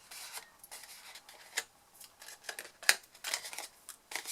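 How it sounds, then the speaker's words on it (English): Paper being cut and scored into wedges for an adhesive desk caddy: close, crisp snips and scraping strokes in an uneven rhythm, moderately loud, with no voices. "we're going to cut and score, cut the wedges"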